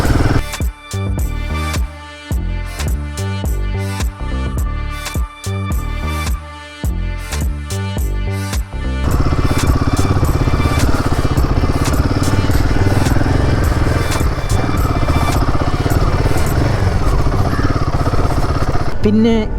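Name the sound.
Royal Enfield Himalayan 450 motorcycle being ridden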